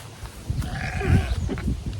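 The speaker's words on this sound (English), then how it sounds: "we also decided to move the sheep in here as well with the goats in their big giant new enclosure" Sheep and goats bleat inside a large new enclosure, a wavering bleat rising over rustling and shuffling close by.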